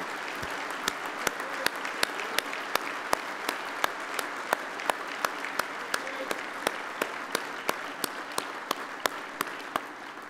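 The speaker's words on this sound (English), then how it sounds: "Let's give those two gentlemen a round of applause for their service to this union" Union convention delegates give a steady round of applause. The hall fills with a thick, even layer of clapping, and a few nearby hands strike out sharp, evenly spaced claps above the crowd throughout.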